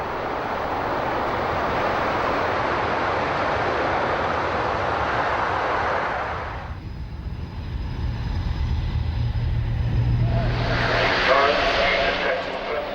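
A Boeing C-17 Globemaster transport aircraft flies past at the Farnborough air show. Loud, broad jet roar holds steady for about six seconds, then drops away, leaving quieter rumble with a rising whine near the end.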